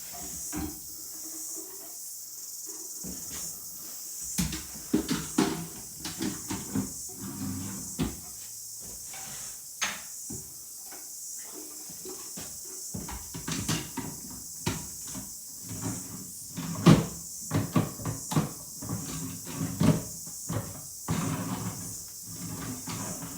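Kitchen drawers being fitted into cabinets in a shipping container home: repeated wooden knocks, slides and clunks come close and fairly loud at irregular intervals, with no talk.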